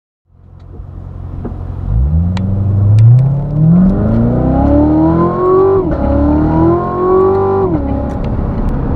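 A 2016 Corvette Z06 engine revs up hard, pitch climbing through two clear gear changes with brief dips between, loud and close throughout.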